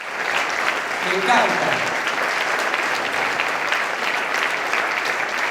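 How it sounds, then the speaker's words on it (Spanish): A church congregation applauds during a sermon: full, steady clapping from many hands, sustained and even, with a brief spoken voice near the start. "Yo quiero que le des un aplauso al Espíritu Santo."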